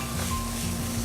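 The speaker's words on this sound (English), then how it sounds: "We'll go on to throw a little garlic in there. Nice little sizzle." Garlic, olives, artichoke hearts and beans sizzle in a hot pan, a steady close frying hiss with a low hum underneath, no talking.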